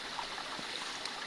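A creek flows steadily outdoors, a continuous soft rushing wash of water with no distinct splashes, moderately faint and unbroken.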